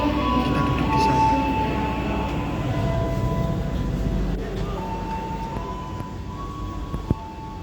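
The KA Jayabaya economy train departs, heard from inside a carriage as a steady rumble with a long tonal horn-like drone and a sharp click near the end.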